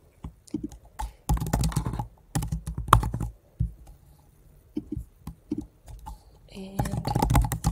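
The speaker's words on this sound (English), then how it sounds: "type out our names here." Quick bursts of typing on a computer keyboard while entering names on a wedding website built from a Squarespace template. Clusters of close, crisp key clicks alternate with short pauses, and a voice speaks between the bursts.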